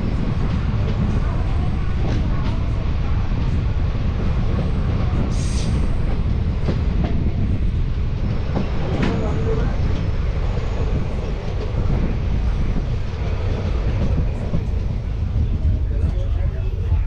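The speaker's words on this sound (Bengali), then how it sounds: "এই রানীনগর থেকে ছেড়ে দিল আমাদের ট্রেন।" The 55752 local passenger train from Haldibari to New Jalpaiguri runs after leaving Raninagar, heard from on board as a loud, unbroken rumble of wheels and carriage noise with faint rattles throughout.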